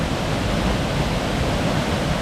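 A waterfall on a hidden creek trail in Washington pours in a dense, steady broadband rush, loud and close, with no break or other sounds.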